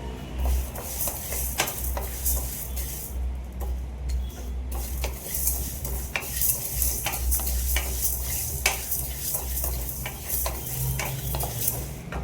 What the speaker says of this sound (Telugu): ఇలా దూరగా వేయించుకొని సిమ్లోనే వేయించుకోవాలండి.